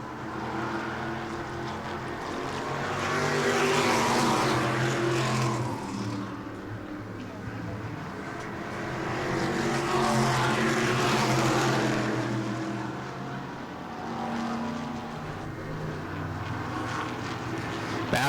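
Mod race cars roar around New Smyrna Speedway, their engine noise swelling and fading in repeated passes as the pack laps the track, with a voice talking over it.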